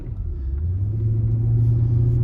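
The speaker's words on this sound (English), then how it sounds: "I'm just gonna drive it with an easy foot because it's flaring between shifts" A 2009 Lexus LS 460L with a transmission that flares between shifts drives along, its low engine rumble steady and close, the tone climbing gradually as it gathers speed.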